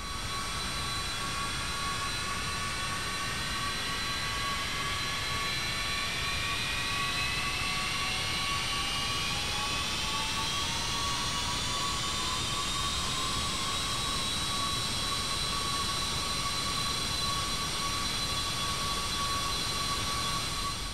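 Cessna Citation II (Carenado S550) jet engine spooling up in X-Plane 11, heard from outside: a loud steady roar with rising whining tones climbing gradually over about twenty seconds.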